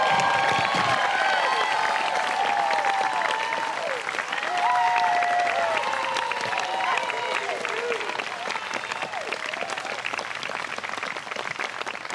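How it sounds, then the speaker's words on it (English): A crowd at a Stanford international relations diploma ceremony gives the graduates loud, sustained applause, with some cheers and whoops rising through the clapping before it slowly thins out. "one last round of applause for all of our graduates"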